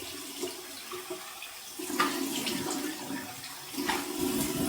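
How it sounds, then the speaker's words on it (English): Running tap water splashing into a sink during a warm rinse while shaving, with faint bursts of splashing as hands scoop water, quiet and close. "that was my warm water rinse"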